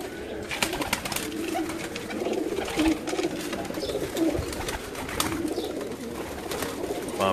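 Pigeons coo softly and repeatedly from a rooftop in Gujrat amid steady outdoor background noise, with scattered faint bird calls and no clear talking.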